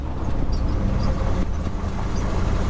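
A 1969 Ford F-350 truck pulls away in second gear, its engine a continuous low rumble with road noise, steady and close throughout.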